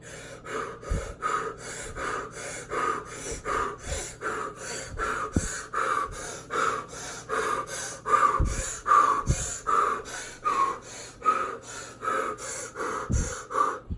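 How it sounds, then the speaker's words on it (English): Breathwork breathing with no pause between inhale and exhale, a continuous cycle of loud, close, connected breaths with sharp gasping intakes and snort-like exhales in an irregular rhythm, no talk. "we were basically breathing without any kind of retention between the inhale and exhale"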